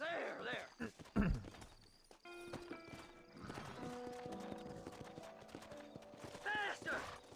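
A horse in the Red Dead Redemption video game clip-clops at a walk and gives a whinny, the hooves steady and fairly near, with occasional talk and game sounds around them.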